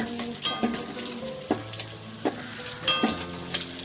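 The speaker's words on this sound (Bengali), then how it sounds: "আমি এখন কড়াইয়ে আলু দিয়ে দিচ্ছি" Potatoes sizzle and crackle steadily in hot oil in a wok, with occasional clinks and scrapes of stirring in the pan.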